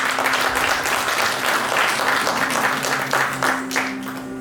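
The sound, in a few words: audience applause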